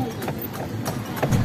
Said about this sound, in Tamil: இப்போ பார்த்தீங்கன்னா இந்த ஒரு குதிரை வண்டியில் நான் பயணம் செஞ்சிட்ருக்கேன்.